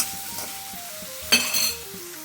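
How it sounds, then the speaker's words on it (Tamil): Brinjal pieces sautéing in a pan for Kerala thoran, a soft sizzle with a brief clatter of a stirring spoon against the pan midway, close by and with no talk. "கத்திரிக்காய் நல்லா மிக்ஸ் பண்ணி வதக்கிட்டு மூடி வச்சுடுவோம்."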